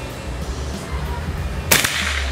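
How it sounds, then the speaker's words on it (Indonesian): A single sharp crack from a Bocap Predator PCP air rifle fired at a target, loud and near, standing out from a steady low hum of background noise. "Sekarang tembakan yang kedua."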